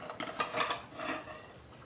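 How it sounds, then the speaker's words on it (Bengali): A metal pot lid lifted and spicy chicken gravy stirred with a spoon, soft clinks and scraping against the pot, quiet and close with no talking. "ঢাকাটা সরিয়ে আরও একবার নাড়িয়ে দিচ্ছি।"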